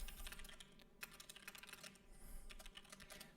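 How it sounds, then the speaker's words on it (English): Typing on a computer keyboard during a live coding session, with quick irregular key clicks in bursts, close to the microphone and fairly quiet, with no talking. "I really hope that the keyboard is not too loud"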